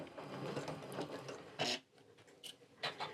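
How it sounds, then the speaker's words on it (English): A sewing machine stitching down a fabric edge, running in short bursts with quiet mechanical whirring and clicks, fairly faint and close. "we're just going to sew down this edge"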